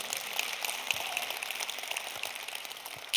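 Faint, distant applause from a church congregation, a soft, steady patter of many hands that continues for a few seconds with no voices over it.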